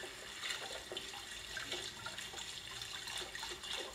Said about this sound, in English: let's wash the dishes